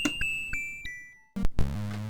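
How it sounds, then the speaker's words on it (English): A bell rings in a Commodore 64 video game as bright synthesized chime tones. Several quick dings sound in sequence over a sustained electronic tone, loud and close, followed by a denser burst of chiptune sound. "ring the bell, and find those secrets"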